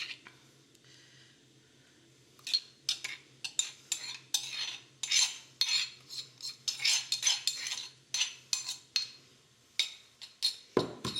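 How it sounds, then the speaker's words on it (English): Mint dressing is spooned over a zucchini salad with roasted pine nuts, producing a close series of quick clinks and wet scrapes of a spoon against the bowl, irregular and unaccompanied by speech. "grab your salad and just spoon over the dressing"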